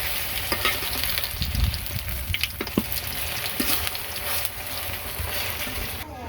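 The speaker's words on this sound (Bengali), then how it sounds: "মাঝে মধ্যে বড়া ভাজা হয়" Bora fritters frying in hot oil give a dense, close sizzle with stirring scrapes and occasional sharp spatters, continuous throughout.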